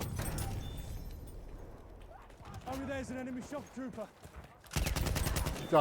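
Bursts of BAR telescopic rifle fire ring out during a Sinai Desert match in Battlefield 1, sharp rapid shots at the start and a dense loud volley near the end, with a voice talking in between.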